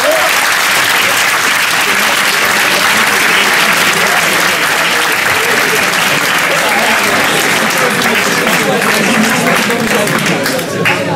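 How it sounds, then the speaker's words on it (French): Sustained audience applause at a school eloquence and pleading contest at a business school, dense steady clapping filling the room for about eleven seconds, loud and continuous with a light murmur of voices beneath. "je pense qu'on peut l'applaudir"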